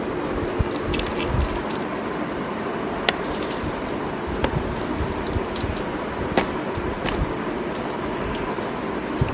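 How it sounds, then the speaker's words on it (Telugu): Water poured gently from a small glass into a newly planted aquarium makes a steady, close splashing trickle, with scattered small clicks and no speech. "సో ఇప్పుడు చిన్న గ్లాస్తో నేను లైట్గా పోస్తాను."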